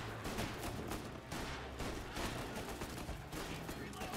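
Gunfire in the video game Mafia: Definitive Edition, a dense, continuous fusillade of shots filling the whole stretch at a steady loud level, with game sound layered beneath.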